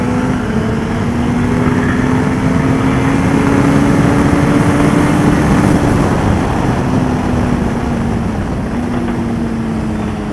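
A motorcycle on the Le Vigeant race track accelerates hard, its engine a loud, close, continuous drone with a rising then falling pitch through the whole stretch, no voices over it.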